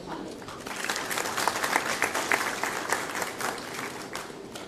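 An audience at the official launch of NIC applauds to welcome a speaker, with dense, rapid clapping that swells and stays strong throughout, faint voices mixed in.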